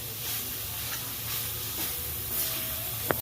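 Carrots for carrot halwa roast in ghee, with a steady low sizzle and hiss under occasional stirring scrapes and a sharp clink at the end, close and quiet, no talk.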